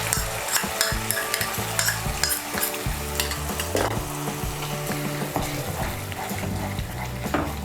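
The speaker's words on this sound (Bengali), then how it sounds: "মিশিয়ে নিয়ে মশলাটাকে আমি আরেকটু কষিয়ে নেব" Masala for Kashmiri aloo dum sizzles in a pan as a paste of ground cashews and melon seeds is stirred in, with close, steady frying crackle and frequent spatula scrapes and clinks against the pan.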